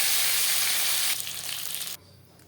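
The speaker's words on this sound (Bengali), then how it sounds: "পরের মাছ একইভাবে ভেজে নেব।" Aar fish sizzles loudly in hot oil in a kadai, a bright steady crackling hiss that drops in level partway through and then falls to a faint sputter.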